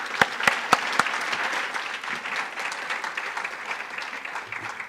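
An audience at a jobs summit breaks into applause, a few sharp individual claps at the start merging into a steady, dense crowd clapping that holds for several seconds.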